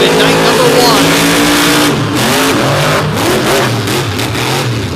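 Race cars roar at full throttle around a dirt oval at Fowlerville during a 2024 championship feature shortened by rain. The engines stay loud and close, with rising and falling pitch as cars pass, and a commentator talks over them.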